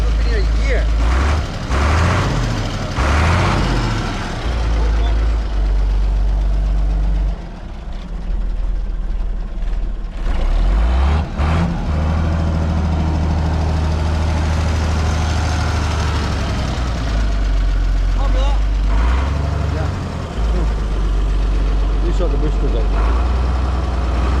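A Scania 143 truck engine idles with a steady, loud, low rumble throughout, while people talk over it.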